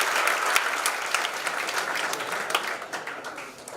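A crowd of students at a TEDx interactive session at IIT Patna claps enthusiastically in a loud, crackling burst of applause with sharp individual slaps that tapers off slightly toward the end.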